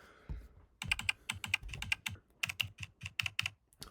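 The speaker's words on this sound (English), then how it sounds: "just a typing effect" Keyboard typing used as a sound effect on a portfolio website: a quick, irregular run of sharp, close key clicks after a brief soft swish, fairly quiet and alone.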